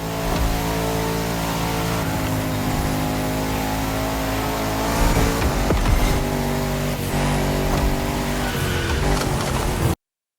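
A car in the racing video game The Crew Motorfest drones with a steady engine note through a turn, a brief tire squeal and skid noise rising midway, then the engine resumes before cutting off abruptly.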